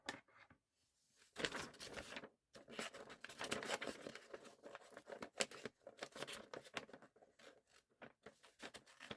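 Scissors snip through fabric in a steady run of close, crisp cuts and rustles, with a few brief pauses between them.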